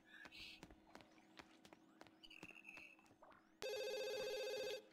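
A telephone in The Sims 2 rings loudly and continuously near the end, after a stretch of scattered game clicks, chimes and light footstep-like taps.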